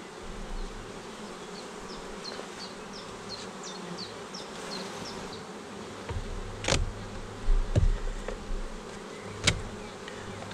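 Honey bees buzz steadily around an open hive box during beekeeping work, a dense, continuous drone close up, with a few louder knocks and thuds from the frames and boxes being handled toward the end.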